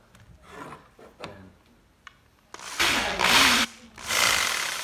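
A Black & Decker all-in-one jigsaw runs in several loud, rasping bursts, each lasting about a second. Fainter clicks and handling noises come before them.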